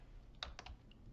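A few quick, faint keystrokes on a computer keyboard sound as a name is typed into an Excel cell, with light clicks in a short burst.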